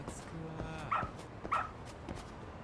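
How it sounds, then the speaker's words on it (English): A dog in the video game Lost Judgment gives two short, high yips about half a second apart, fairly close over quiet background game sounds and faint soft thumps. "Follow doggo."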